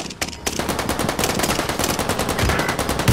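Rapid automatic gunfire in Call of Duty: Modern Warfare, a continuous loud rattle of shots filling the whole stretch, with a few heavier bursts near the start.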